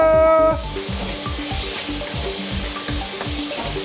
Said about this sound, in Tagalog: Gisa-gisa na naman tayo